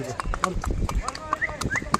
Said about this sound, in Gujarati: ઘોડો જ છે, મને ખબર પડી ગઈ એમ ને એ ઘોડો છે ને કહેવાય